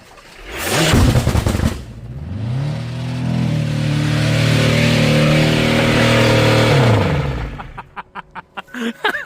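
A 2019 Hyundai Santa Fe engine with an exploded intake and separated airbox revs hard and loud, holding a long steady high-rpm roar before dropping off, with sharp knocks and bangs at the start and end.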